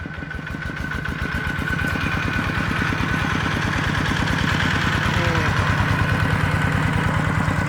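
A vehicle engine chugs with a steady, rapid pulsing beat as it drives in slowly through a newly opened entry to haul wood scraps, close and loud throughout.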